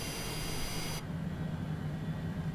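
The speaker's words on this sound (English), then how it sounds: "That engine right there is spooling up." A jet engine in a flight simulator video game produces a low, steady rumbling whine with broadband hiss. The sound is faint and continuous, and nothing else is heard over it.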